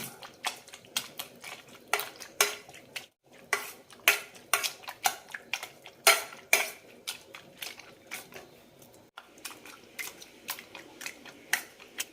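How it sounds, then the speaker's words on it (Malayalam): Cooked ash gourd pieces mashed for chutney in a vessel make a string of irregular, close knocks and clinks of a utensil, with two short pauses and no speech. "ഇത് നന്നായി ഒന്ന് മാഷ് ചെയ്തെടുക്കാം നന്നായി ഉടച്ചെടുക്കണം"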